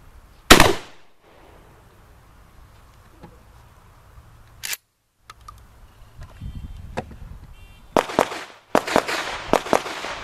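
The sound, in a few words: 12 gauge shotgun firing Remington reduced recoil buckshot, IAC Hawk 981R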